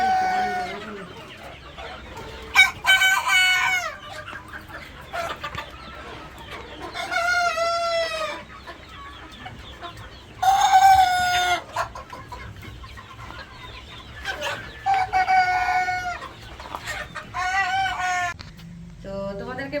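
Farm chickens cluck steadily while a rooster crows repeatedly, about six loud crows spaced through the scene, close and clear over a faint background.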